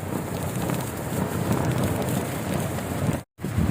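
Strong wind at a campsite in Mersing, Johor, steady loud buffeting and rushing across the microphone with no pause, apart from one brief dropout near the end, and no voices.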